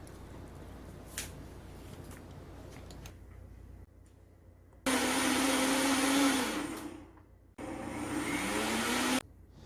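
A Tefal appliance used in place of a blender whirs through cold rice mixed with water in two loud, steady bursts, the second after a brief pause, following a quieter stretch of kitchen noise.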